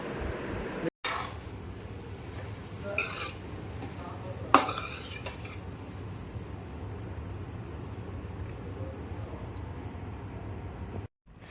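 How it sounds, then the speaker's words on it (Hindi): Cutlery and dishes clink and scrape as food is served onto a plate in a home kitchen at family mealtime, with a sharp clatter near the middle over steady low background noise. "प्लेट लगा रही हूँ"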